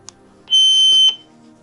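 A single sharp electronic beep from a walkie-talkie radio, high-pitched and steady for about half a second, rings out loud and close against quiet background noise.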